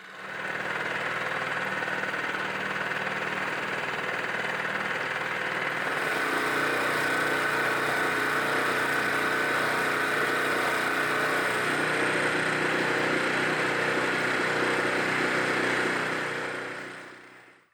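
An inflatable boat's outboard motor drones steadily for the whole stretch across a calm loch, its pitch shifting slightly partway through, with no voices over the engine noise.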